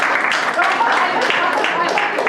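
An audience at a sculpture lecture gives a round of clapping, a dense patter of hands that continues steadily for a couple of seconds, with voices talking over it.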